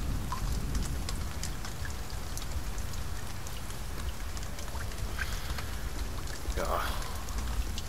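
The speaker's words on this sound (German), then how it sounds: "Es regnet einfach durchgehend." Steady rain falls continuously in the survival video game The Forest, a constant hiss of drops with scattered pattering, while someone speaks briefly over it.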